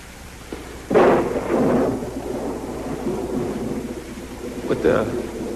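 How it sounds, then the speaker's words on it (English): A thunderstorm with rain, heard from indoors at night, where low rumbles of thunder roll over a constant wash of rain, loudest near the start and again toward the end. "Storm's getting worse."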